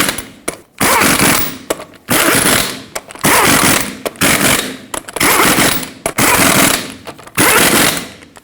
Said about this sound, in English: And then also in a cross pattern, we'll torque them to